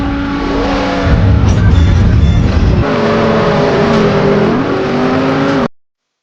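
Engine of a buggy car in the racing video game Beach Buggy Blitz whines and revs loudly as it drives, with pitch shifting up and down through gear changes before stopping abruptly.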